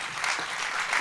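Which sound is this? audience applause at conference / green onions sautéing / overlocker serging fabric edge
audience applause at conference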